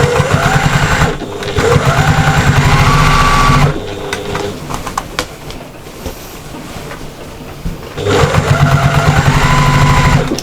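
A sewing machine stitches a diamond lap quilt in rapid mechanical bursts, running loud for a few seconds, pausing through a quieter stretch, then starting up again close by.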